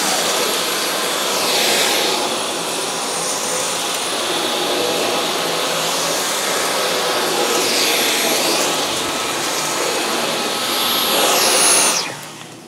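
Dyson V12 Detect Slim cordless vacuum cleaning carpet, a loud close high-pitched whine that holds steady and rises and falls slightly in pitch as it sweeps back and forth, cutting off at the end.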